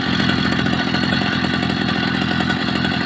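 A motorbike engine idles steadily after an NT carb jet is swapped into an HP carburettor, a loud, even, buzzy putter with no voices over it.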